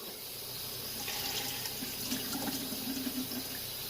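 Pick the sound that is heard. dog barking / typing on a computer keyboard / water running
water running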